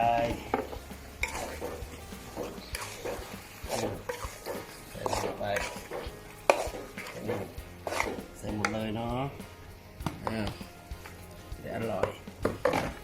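Lean ground pork hip meat tossed into a hot pan and stirred, with clattering spatula scrapes, knocks and light sizzling heard under someone talking throughout.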